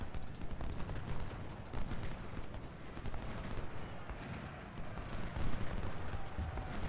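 Dense, continuous rumbling battle noise of artillery canister fire and musketry in the Civil War strategy game Ultimate General: Civil War, a crackling barrage at moderate volume with no clear gaps.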